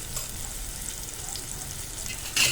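Fenugreek seeds browning in hot oil for kadhi give off a soft, continuous sizzle, faint and steady, with a brief louder scrape near the end.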